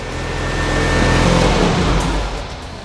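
A Lotus Elise S1 Sport 160 engine running while parked: a steady mid-pitched hum that swells slightly in the middle and then eases back, heard close and alone.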